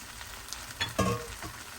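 Fried Nutrela soya chunks drop into a reduced, simmering curry gravy, giving a few brief soft crackles and splats over a quiet sizzle in this short moment.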